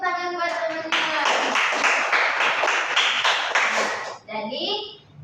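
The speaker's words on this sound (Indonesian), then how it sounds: "Beri tepuk tangan buat teman-teman." Children in a classroom clap together during a lesson on keeping living spaces clean, a dense, rhythmic burst of group clapping lasting about three seconds, with an adult voice speaking just before and just after.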